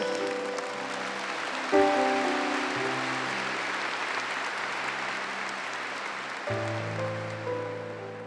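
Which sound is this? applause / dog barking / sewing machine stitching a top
applause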